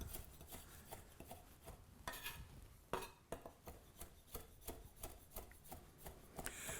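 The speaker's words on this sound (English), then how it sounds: "And we'll just run the knife through it gently." A knife chops fresh, just-harvested parsley on a board in a quick steady rhythm of soft close taps and scrapes, fairly quiet with no talk.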